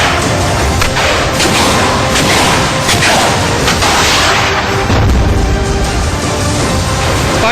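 Repeated heavy booms from TOW anti-tank missile fire on a border, blending into a continuous loud, dense roar of blasts and rumble with no clear gaps.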